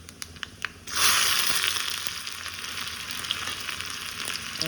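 Mustard seeds and onion drop into hot oil for a sambar and burst into a loud, steady sizzle after a few faint clicks and pops, close up and continuing to the end.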